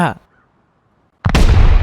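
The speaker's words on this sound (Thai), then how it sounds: "มันกำลังโยนระเบิดอยู่เลยบนหลังคา" A burst of explosive detonations from C4 charges thrown onto a house roof in the survival game Rust, loud and broadband, following a brief earlier pop and a short silence.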